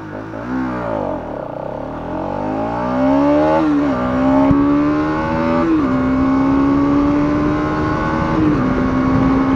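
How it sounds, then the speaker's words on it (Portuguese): Bajaj Dominar 200 motorcycle accelerating hard from a standstill, the engine note climbing steeply through several gears with brief dips at each shift, loud and close throughout. "veremos como se comporta essa moto a dominar 200 em aceleração"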